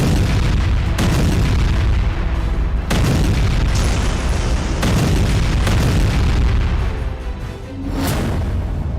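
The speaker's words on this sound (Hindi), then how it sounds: "बेरूत में इजरायली सेना का बारूदी जलजला।" Heavy explosions from an Israeli military strike on Beirut, a series of loud, deep booms with roaring, rumbling blasts that run together almost without pause.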